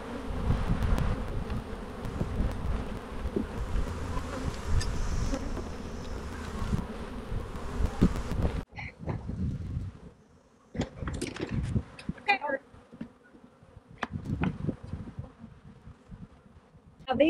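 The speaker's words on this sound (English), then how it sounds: "Now these bees are going to be stirred up for a while." Agitated honey bees from a hive with a laying worker buzz in a dense, continuous drone that fills the first half, then thins to scattered close passes and individual bees flying near and away.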